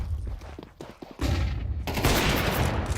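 AK-47 and other rifle fire crackles during a professional Counter-Strike match at IEM Krakow, with rapid bursts and overlapping shots building into a dense, loud barrage of gunfire.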